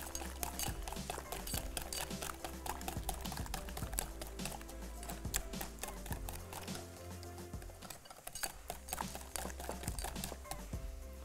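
Yogurt being beaten in a bowl with a whisk or spoon gives a fast, steady run of light clicking and tapping strokes against the bowl, continuous for about eleven seconds over a constant low background hum.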